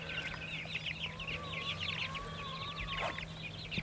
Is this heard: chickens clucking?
yes